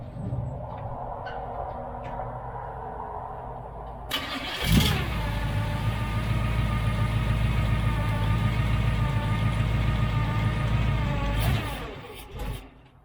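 The engine of an old project car that had sat for around twelve years cranks and catches, then settles into a steady, fairly loud idle that carries on for several seconds before it shuts off, with no talk.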